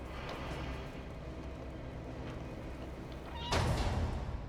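A cat meowing in the video game Stray, a few drawn-out mews over a low steady background hum, with a louder burst of sound near the end.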